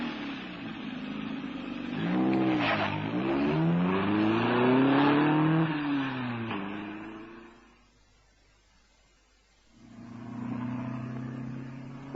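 A car engine fires and roars away in a radio drama, revving hard through rising and falling gear changes with squealing tyres, then drops to near silence before a steady engine hum returns; no voices.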